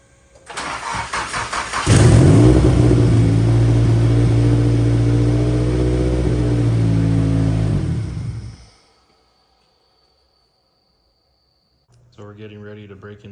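A rebuilt Nissan SR20 turbo engine cranks and fires for the first time, then runs loud and rough with revs for about seven seconds before shutting off into silence; a voice follows near the end.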